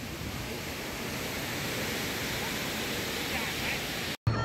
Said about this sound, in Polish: wodospad Vachiratan, który robi wrażenie i na pewno warto tutaj wpaść